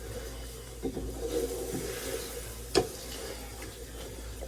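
Eggs stirred in a pan with a utensil, soft scraping and rubbing strokes with a few sharper taps against the pan, quiet and close, no talking.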